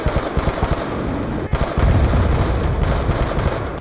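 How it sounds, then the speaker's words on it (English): Rapid automatic gunfire from the video game Call of Duty: Black Ops 2 rattles in dense, punchy bursts over continuous game noise, loud and without talk. "This is one of those Call of Duty games that actually gets gun sounds right because they all sound very nice and punchy"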